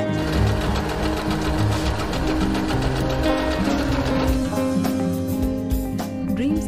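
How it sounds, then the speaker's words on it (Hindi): An Usha Dream Stitch sewing machine runs in reverse stitch, its needle mechanism giving a fast, steady, close mechanical chatter that slows and fades toward the end. "जब तक आप उस बटन को दबा कर रखेंगे तब तक मशीन उल्टी सिलाई करती रहेगी"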